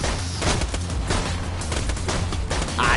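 Rapid gunfire erupts while bandits are gunned down in the video game Borderlands 2. Loud, dense bursts of shots overlap almost without pause, layered with game sound effects throughout.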